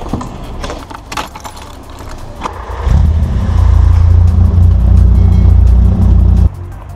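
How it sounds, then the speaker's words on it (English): A modified Volkswagen Polo Mk2F sets off on a drive home after its MOT, starting with jangling keys and clicks before the engine settles into a steady, loud close drone that cuts off abruptly near the end. "I've packed a car now, so I'm going to have a little drive home"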